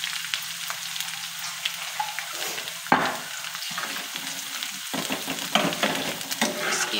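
Garlic sizzling and frying light brown in hot oil, a steady crackling hiss with occasional stirring scrapes and louder pops, close by and with no talking.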